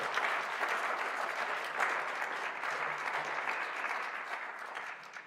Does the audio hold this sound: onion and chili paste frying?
no